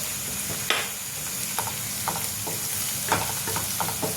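Cabbage zunka, made with semolina and chana dal flour, roasts in oil in a pan with a steady sizzle, while a spoon scrapes and stirs in irregular taps and scrapes over it.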